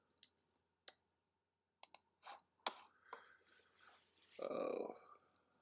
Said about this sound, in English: I'm going to click to the right bracket a bunch of times.